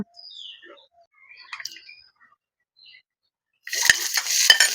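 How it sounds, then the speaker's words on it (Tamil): Chopped onions hit a hot pan of mustard seeds tempering in oil for a Kerala chickpea curry. A few soft clinks and stirring taps come first, then a loud, hissing sizzle bursts up near the end. "ஒரு ரெண்டு வெங்காயம் கட் பண்ணி வச்சுக்கோங்க அதையும் சேர்த்து நல்லா வறுத்து எடுத்துக்கோங்க வதக்கிக்கிறோமா"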